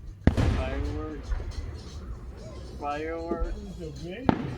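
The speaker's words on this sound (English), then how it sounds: "Fireworks." Fireworks go off with a sharp crack at the start and another near the end, separated by a stretch of close conversation between adults and a child.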